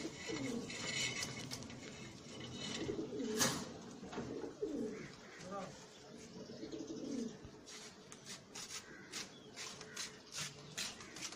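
Kaldom high flyer pigeons coo softly at close range, with repeated low, rolling calls, some wing shuffling and occasional chirps, and someone speaking quietly in the background.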